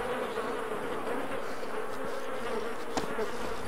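Bees buzzing in the survival video game DayZ, a close, steady insect drone that holds throughout, with one brief sharp click near the end and no voices.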